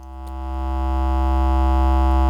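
A sustained synth tone from the Max4Live Origami triple wave folder, using secondary folds with a filter for smooth folding, holds a steady harmonic buzz that swells slightly in level over two seconds, with no talking.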